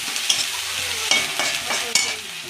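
A spice paste of ground ginger, cumin, mustard and turmeric is stirred in a hot pan for fish curry, with steady sizzling frying and several sharp scraping strokes of the spoon, alone without voices.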